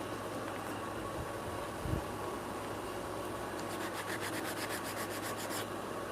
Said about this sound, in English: sand that away if possible